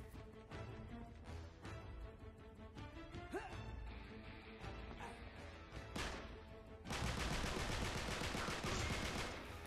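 Gunfire in Uncharted 3 multiplayer: rapid bursts of shots and clattering impacts through the first part, then a dense, louder stretch of continuous fire and crashes near the end, with faint game sounds between.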